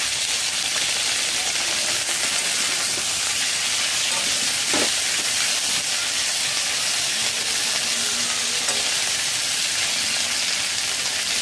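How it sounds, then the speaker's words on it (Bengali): Cauliflower fries in a hot pan for a home-cooked shol fish, cauliflower and potato curry, giving off a loud, continuous sizzle with an occasional scrape of stirring. "দু মিনিট নাড়াচাড়া করে ফুলকপি ভেজে নিয়েছি"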